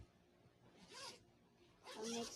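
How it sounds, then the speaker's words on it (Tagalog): Two quick zipper pulls on a pencil case, a short rasp followed by a longer, louder zip after a pause, close and fairly quiet. "Tapos may zipper pa dito."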